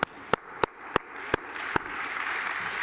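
A small audience at an art-history congress artist talk gives a handful of sharp, separate claps, about six spaced across the first two seconds, then fades into room murmur.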